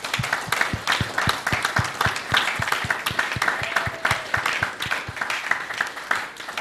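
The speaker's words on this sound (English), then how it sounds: "let's all give the Most High a round of applause" A congregation at a Sabbath service claps in a steady, rhythmic beat of hand claps, moderately loud throughout, with a murmur of voices underneath.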